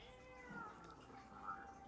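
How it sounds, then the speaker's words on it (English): Cat meowing in the video game No I'm Not a Human, a faint, drawn-out mewing call in a quiet room, heard alone. "Pick up the cat. Meow, meow."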